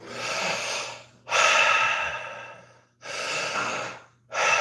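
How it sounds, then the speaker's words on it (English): Close-miked breathing in slow, loud, airy cycles, with long breaths separated by short silent pauses. "you can hear me breathe because I'm 12 inches away from the microphone"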